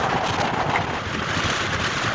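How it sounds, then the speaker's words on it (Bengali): Strong wind buffets the microphone as a motorcycle pushes against the gale near a pond, a loud, steady roar with constant rumbling gusts throughout and no talk. "বাতাস কি পরিমাণ বাতাসের মধ্যে কিন্তু আমরা ছুটে চলছি"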